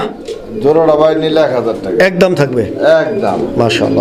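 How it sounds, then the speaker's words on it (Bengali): Pigeons at a pigeon farm, racer birds paired with nun pigeons, coo steadily close by while someone talks over them throughout. "এটা হচ্ছে নান কবুতরের সাথে রেসার কবুতরের জোড়া দিয়ে রাখছে"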